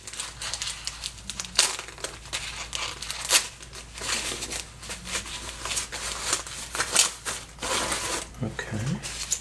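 Crinkly packaging rustles and crumples in close, uneven bursts as Seiko 6138 chronograph watches are unwrapped, with occasional sharper crackles and a faint voice in the background.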